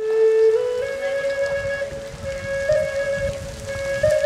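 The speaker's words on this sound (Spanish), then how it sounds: "constantemente llueve sobre ella" Steady rain pours onto a lagoon, a dense continuous hiss of drops on water and surfaces, loud and close, with a high tonal whistle-like drone running through it.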